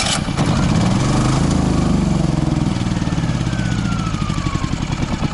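Champion RV generator engine being started with the choke on, cranking briefly and then running with a loud, steady, close-up rumble.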